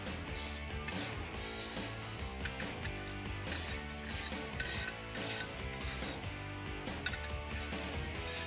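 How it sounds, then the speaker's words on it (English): Ratchet fitted with a 13 mm socket tightens M8 bolts on a Toyota Tacoma brake rotor job, with repeated rapid clicking pawl strokes, close and continuous. "I'll take a 13 millimeter socket and we're just gonna tighten down evenly"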